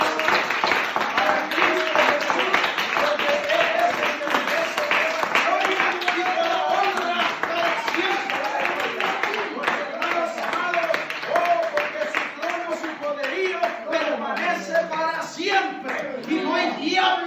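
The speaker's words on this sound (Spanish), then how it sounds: "Si usted está sediento de Dios, denle el mejor aplauso que tenga." A church congregation applauds in a sustained, dense burst of clapping mixed with shouts and crowd voices, loud and close throughout.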